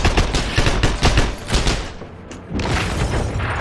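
Video game battle with a grenade explosion amid rapid gunfire: dense, loud bursts of shots and booms in quick succession, a short lull, then a heavy blast rumbling on to the end.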